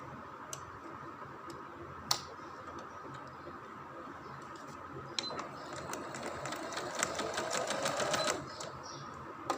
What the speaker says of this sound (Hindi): अब हम इस पर सिलाई लगा लेते हैं